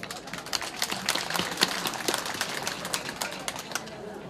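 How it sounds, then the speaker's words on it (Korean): Alumni attending an elementary school alumni association's general meeting applaud to approve a motion, a loose patter of many hands clapping at moderate distance, sharp individual claps scattered through a continuous ripple. "가결해 주시면 박수로 보내주시기 바랍니다."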